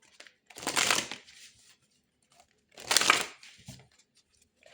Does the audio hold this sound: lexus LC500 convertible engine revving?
no